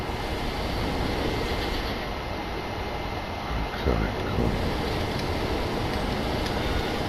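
A steam train rolls along in Red Dead Redemption 2 with a continuous low rumble and hiss, and someone speaks briefly over it.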